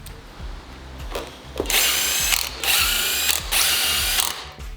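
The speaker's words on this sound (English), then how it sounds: "Then I'm going to use my drill with the hex, and I'll grab a bunch of these stainless screws." A cordless drill fitted with a hex bit drives stainless screws into a vinyl gate, giving a few short ratcheting bursts followed by two longer whirring runs, close and fairly loud, with no talking.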